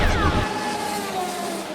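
A cartoon race car driven by the big bad wolf surges ahead with a turbo boost: a short, loud whooshing engine rush whose pitch slides downward as it speeds away.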